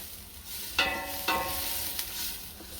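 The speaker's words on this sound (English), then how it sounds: "all I want to do is cook off the onions, and then I'll add my mince to this" One large brown onion sizzling in a pan, a steady close hiss broken by a few sharp scrapes of stirring, no voices.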